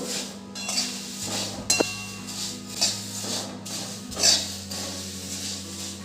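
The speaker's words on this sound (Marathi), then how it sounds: "उन्हात इतके छान वाळले ना अगदी खरखरीत आवाज येतोय मस्त" Sun-dried dahi poha (flattened rice) being tossed and stirred in a pan, giving crisp, dry rustling and light clinking bursts that repeat in uneven handfuls, close and fairly quiet.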